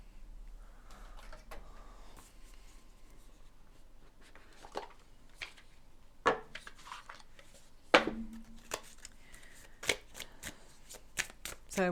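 Cards are shuffled and handled in soft riffles and sharper snaps, close and fairly quiet, with irregular louder flicks standing out toward the end.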